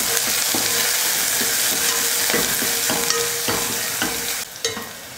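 Curry leaves, onion and garlic fry in oil with a loud, close, continuous sizzle and regular scraping stirs against the pan, easing off slightly at the end.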